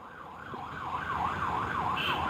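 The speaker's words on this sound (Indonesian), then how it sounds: "sirine di belakang dimainkan." Emergency siren wailing from a vehicle behind, a rising-and-falling electronic tone repeating quickly and steadily, moderately loud over a low background rumble.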